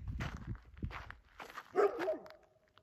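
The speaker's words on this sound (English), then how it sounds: "Why are y'all barking?" A few short dog barks and yips at close range, mixed with shuffling footsteps, a higher whimpering bark rising near the end.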